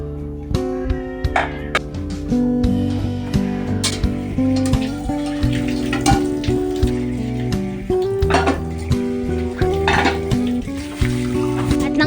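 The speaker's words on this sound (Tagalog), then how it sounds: "nagdiretso na nga rin pala ako dito sa mga binabad kong kaldero para mahugasan na nga rin" Soaked cooking pots clatter and scrape as they are washed, with steady metallic knocks and clinks close up, continuous through the whole stretch with no talking.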